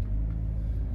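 A Hyundai HB20 1.6 automatic drives through São Paulo at night, a steady low rumble of engine and road noise heard from inside the cabin.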